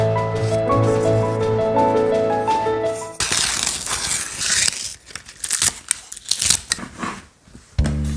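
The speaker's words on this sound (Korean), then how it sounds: "양배추 4분의 1을 크게 썰어줍니다." A quarter cabbage cut into large pieces with a kitchen knife, crunchy slicing and crackling leaf sounds up close, coming after a stretch of background music.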